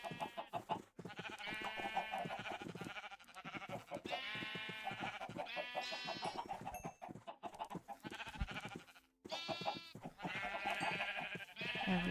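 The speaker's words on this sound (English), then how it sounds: "go ahead and breed some sheep." Sheep in the Minecraft video game bleat repeatedly in a dense, overlapping chorus of wavering calls, loud and close, continuing for many seconds with brief pauses.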